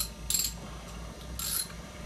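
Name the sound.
3/4 inch ratchet tightening arm wrestling machine handle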